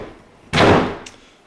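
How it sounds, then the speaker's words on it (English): A house door is pushed shut in one loud, close slam with a broad rushing thud that fades, followed by a small latch click. "Shut this door."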